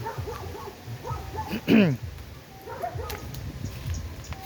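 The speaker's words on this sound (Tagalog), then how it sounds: "aso doon sa baba. Tahol ng tahol lagi ang mga yan eh." Dogs barking down below in a rural Philippine setting near a chicken-raising area, one short burst of barks standing out over steady outdoor background noise with faint chatter.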